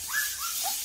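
A young Rottweiler puppy gives three short, thin whimpers close by, each a high wavering cry that slides downward, alone over a soft background hiss.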